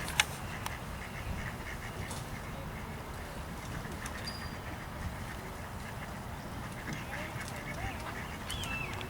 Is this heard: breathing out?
no